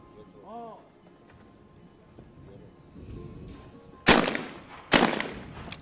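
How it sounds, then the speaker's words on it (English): Two loud, sharp shotgun blasts at skeet targets, fired a moment apart as a double at an ISSF World Cup final in Nicosia, Cyprus, each with a short echoing tail, following quieter crowd and arena murmur. "Mehelba shooting first and hitting both of the targets in the normal double."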